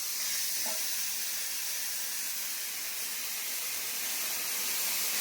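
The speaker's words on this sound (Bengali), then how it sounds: "মাছ ভাজা হয়ে গেলে এবারে বেগুন দিয়ে দিলাম।" Eggplant slices frying in a pan of hot oil right after fish, giving a steady, loud, continuous sizzle and hiss throughout, heard up close with no talking.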